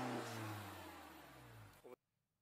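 A modified car exhaust revs hard and loud up close, holding a strong drone that slowly eases off, then gives a short burst before cutting abruptly to near silence.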